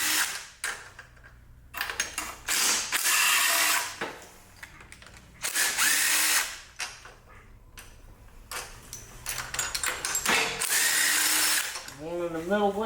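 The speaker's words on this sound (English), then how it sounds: "let me get a socket and we'll take off the head bolts" Ratcheting and power-tool bursts loosen engine head bolts with a socket, coming in repeated loud spells of mechanical whirring and clicking separated by short pauses, with a voice talking in between.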